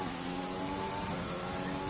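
Race car engine in a sim racing game at Spa, a steady sustained drone with dense harmonics, continuous and fairly loud, the car sliding through a corner with no one speaking over it.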